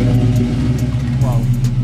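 A car engine revs with a deep, resonant exhaust-pipe drone, loud and close, holding a steady rumble with a slight rise near the end, while people talk over it.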